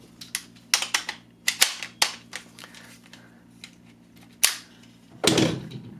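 H&K MP5 .22 LR rifle being handled around its magazine release, a quick series of sharp metallic clicks and clacks, then a louder rattling clack near the end, close up with no talking.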